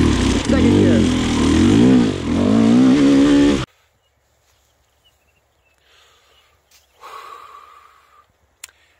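A 2020 KTM 300xc TPI dirt bike with a low-compression head climbs a hill in second gear, its engine revving loud and close for about three and a half seconds before cutting to near silence with faint rustling.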